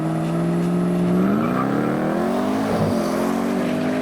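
Mercedes A45 and V8 Bowler Land Rover Defender in a drag race: loud engines roar and rev up in a rising pitch sweep, then shift and carry on, close and continuous with no talk.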